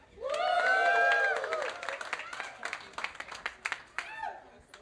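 An awards ceremony audience bursts into loud applause with whoops and cheering voices, the clapping strongest at first, then thinning into scattered claps and shouts.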